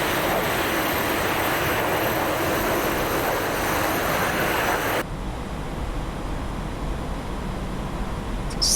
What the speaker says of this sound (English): So those big turbojet engines